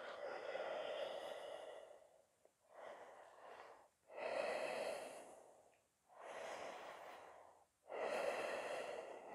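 Controlled breathing held during a yoga leg endurance posture: five slow, deep breaths in a steady rhythm, each a long audible airy inhale or exhale, close and quiet with no talk.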